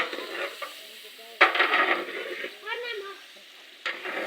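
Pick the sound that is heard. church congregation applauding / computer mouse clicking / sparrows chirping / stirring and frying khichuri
stirring and frying khichuri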